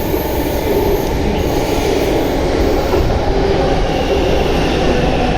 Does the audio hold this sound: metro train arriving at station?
yes